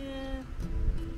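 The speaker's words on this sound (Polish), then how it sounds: "Ona tak miauczy." A cat gives a drawn-out meow, followed by a softer second call, fairly close with some low background rumble.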